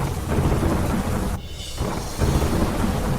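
Heavy monsoon downpour with thunder in Modasa, Aravalli, Gujarat: a steady, loud roar of rain on surfaces with deep rumbling thunder throughout, briefly dipping mid-way before the roar returns.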